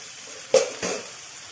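Masala for paneer mutter masala fries quietly in a pan, a faint, steady sizzle broken by two quick clinks of stirring close by.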